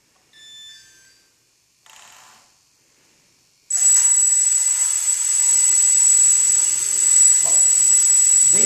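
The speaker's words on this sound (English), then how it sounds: "let me go ahead and get the drone started now" A drone's motors spin up with a sudden loud, steady high-pitched whine after a few quiet clicks and beeps, holding a constant pitch close by.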